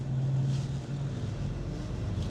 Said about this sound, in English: It was a Harley or something going past.